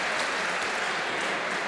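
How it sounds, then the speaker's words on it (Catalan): Dense, continuous applause fills the air for the blue team during a match, a broad wash of crowd clapping with no voices heard. "Que bé, 15, i aplaudiments per als blaus"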